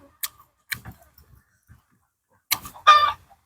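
Chickens cluck outdoors in short, sharp bursts spaced irregularly, ending in a louder, fuller squawking cluck close by, with quiet gaps between the calls.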